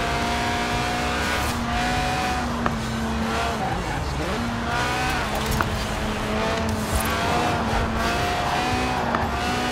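Lotus Elise Sport 190, a stripped-out track-day car with a 190-horsepower 1.8-litre engine revving to 8,000 RPM, racing in Forza Horizon 4; a loud, continuous engine note rises and falls with gear changes and tire squeal throughout.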